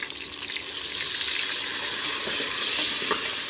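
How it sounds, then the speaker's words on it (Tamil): Chopped onions sautéing in a pan for Tiruppur-style chicken biryani, a steady close sizzle and hiss with soft stirring scrapes running throughout, no voices. "இப்போ வெங்காயம் நல்லா வதங்கட்டு நல்லா ப்ரௌன் கலரில் வதக்கணும் இப்போ நம்ம வந்து வதக்கிடலாம்"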